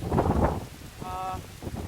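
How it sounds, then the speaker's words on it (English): Heavy rain falls steadily on a hiker in the Scandinavian wilderness along the Nordlandsruta trail, a constant broadband wash with wind noise and a brief voice partway through. "it's a lot of rain"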